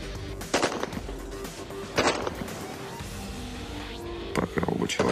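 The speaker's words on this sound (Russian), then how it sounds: "начнется стрельба по движущимся мишеням" Sharp bursts of automatic weapon fire crack out in short volleys at moving targets, some distance away, over a steady outdoor background hum.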